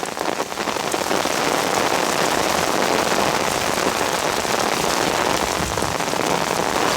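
Heavy rain pours steadily onto the ground and rocks, with runoff water flowing through a permaculture rainwater harvesting setup, a dense, loud, continuous hiss close by.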